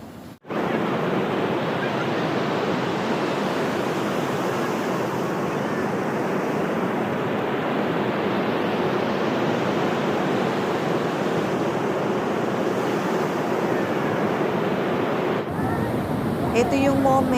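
Waves of the Pacific Ocean wash onto a beach in Japan in a loud, continuous rush of surf with wind buffeting the microphone, sustained for most of the span before a brief change near the end.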